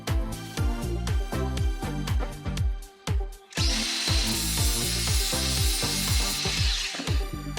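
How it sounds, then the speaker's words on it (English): A power tool with a rhythmic, pulsing whine runs steadily near the mic, a brief pause near the middle, then a harsher high grinding layer joins as an angle grinder with a flap wheel shaves the edges of a panel on a Ford Transit Custom rebuild. "getting the flappy paddle wheel on the grinder and just modifying the edges slightly just to get a slightly better fit"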